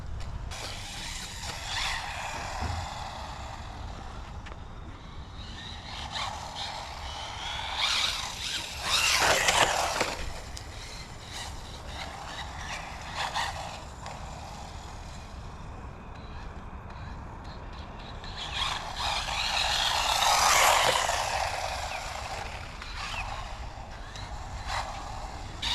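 A JJRC Gantry Pro (SCY16103) RC car on a 2S battery runs across grass, its electric motor whining in steady passes that swell loudly as it nears around ten and twenty seconds, with rustling and brief squeals between runs.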